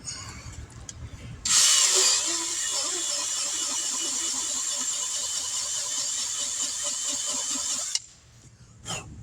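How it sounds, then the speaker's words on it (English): A reaming tool works a puncture hole in a tire on a 2006 Pontiac G6, giving a steady, close grinding and rasping that runs for about six seconds before stopping abruptly. "Ream out the hole."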